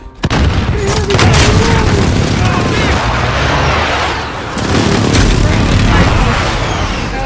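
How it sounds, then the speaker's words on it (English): Booming airstrike explosions in a combat video game burst out loud and close, one heavy blast at the start and another surge midway, over a rumbling bed of battlefield gunfire. "Airstrike."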